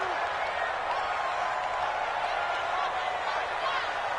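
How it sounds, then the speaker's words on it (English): A stadium crowd at a football game roars steadily in a continuous, broad wash of cheering and clapping with no breaks. "the crowd getting into it as we come up on a big third down"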